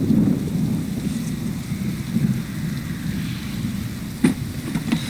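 Steady heavy rain pours down with low rumbling thunder throughout, and a sharp crack of thunder or a loud drop lands near the end, no voices.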